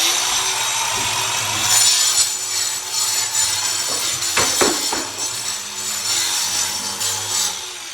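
Power grinder scoring a line into an old plaster wall, a steady abrasive grinding drone that stays close and loud throughout with a few sharp scraping bursts midway, and no talking.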